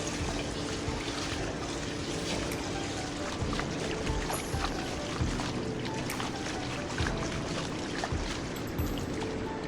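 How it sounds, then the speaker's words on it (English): Water is poured and sloshed over rice being washed in a bowl for jollof rice, a continuous close splashing and swirling with no talk. "So you keep washing until the water is clear"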